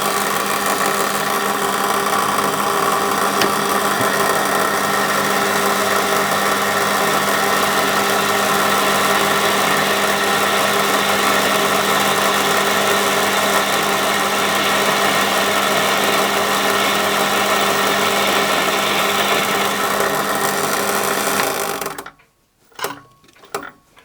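A machine tool taking a light cut in metal for a wobbler model steam engine, a loud, steady whirring grind that runs unbroken for over twenty seconds and then stops abruptly, followed by a few knocks.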